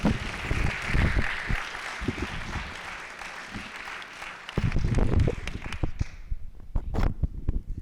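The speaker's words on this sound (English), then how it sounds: "Another round of applause for our superintendent, Dr. Eduard Vincent." Audience applause at a high school Women's History Month assembly honoring the superintendent, a crowd clapping in an indoor hall, with scattered louder claps near the end.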